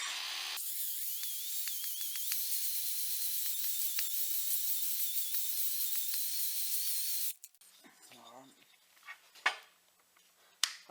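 An electric drill spins an intake valve during valve seat repair, a loud, steady high-pitched whine with vibration that runs for about seven seconds and then cuts off, followed by a few scattered handling clunks.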